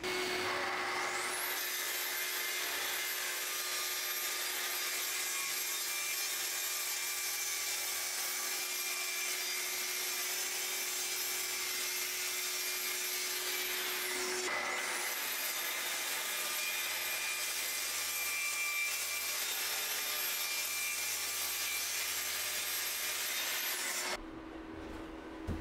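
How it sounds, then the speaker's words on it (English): A saw cuts a sheet of MDF into sizes in two long, continuous passes. Each cut holds a steady loud whine, with a brief dip between them and an abrupt stop near the end. "So now I can start getting the MDF broken down into the sizes I need."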